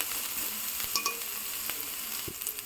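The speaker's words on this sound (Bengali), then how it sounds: "পেঁয়াজটাকে ভালো করে ভেজে নিতে হবে, একটু পোড়া পোড়া করে ভাজতে হবে।" Onions fry in a pan for Maggi soup, giving a continuous close sizzle with a few light scrapes of stirring.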